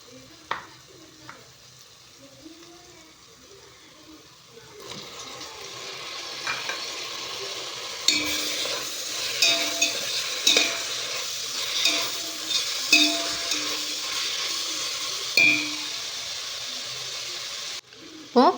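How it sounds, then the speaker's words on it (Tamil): Chopped tomatoes sizzle and fry in a hot pan for chicken biryani, with a spoon scraping and stirring in repeated strokes; the steady frying hiss swells after a few seconds and continues close and fairly loud, with no talking. "இப்போது தக்காளி நல்லா வதங்கணும்"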